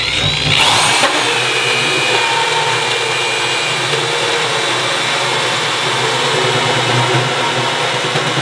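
A 2.5 inch hole saw bores into wood while building a DIY chair, a steady, loud grinding whine that runs unbroken for several seconds after a brief start.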